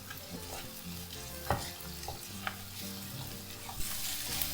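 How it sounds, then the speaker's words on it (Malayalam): Peshawari chicken masala sautéing in a kadhai, a steady sizzle of frying with scraping stirs and a few sharp clinks of the spoon against the pan, alone with no voices. "എന്നിട്ട് നല്ല പോലെ ഒന്ന് വഴറ്റി കൊടുക്കാം."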